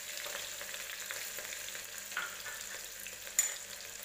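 Finely chopped green chillies fry in oil in a pan, giving a steady, even sizzle throughout with a faint stir or clink now and then.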